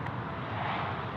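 A Velocity airliner comes in to land at Sydney Airport as a broad, steady engine roar. It holds level and fairly loud for the whole brief moment.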